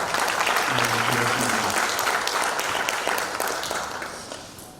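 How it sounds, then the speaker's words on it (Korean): Audience applause welcoming the Chongshin University president to give a keynote at a development plan presentation, a dense, steady wash of many hands filling the hall and tapering near the end, with a brief voice underneath early on. "큰 박수로 환영해 주시면 감사합니다"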